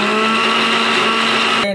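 Electric mixer grinder whirs loud and steady while blending pounded mameja into a fine chutney, a continuous high motor whine that cuts off abruptly at the end.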